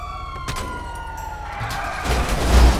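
Police car siren wailing in the GTA5 video game, a steady tone gliding downward beneath game noise, with a burst of crashing and rumbling near the end.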